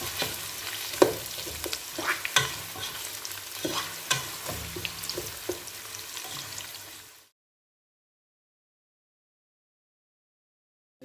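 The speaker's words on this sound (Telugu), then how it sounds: "పచ్చిమిరపకాయలు, ఎర్రగడ్డ వేసుకోండి, ఆనియన్, కొద్దిగా ఫ్రై చేసుకోండి." Green chillies and onion fry in hot oil for chicken biryani, a steady sizzle with scraping stirs and clinks for about seven seconds, then silence.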